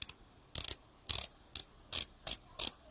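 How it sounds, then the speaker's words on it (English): The 60-click bezel of a Citizen Promaster NY0088-11E Fugu dive watch is turned in short bursts of crisp ratcheting clicks, about seven quick bursts separated by brief pauses, close and clear with no talking. "it has a 60 click bezel"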